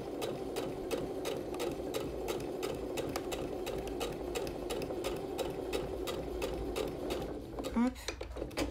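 Sewing machine stitching a trouser fly, a fast, even mechanical rattle of needle strokes heard close, stopping near the end with a short whirring handwheel sound.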